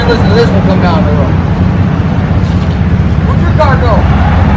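A car passes along a road beside a loud, rumbling 2019 Mustang GT with its muffler deleted, a dense, heavy drone that stays strong throughout, with voices talking over it.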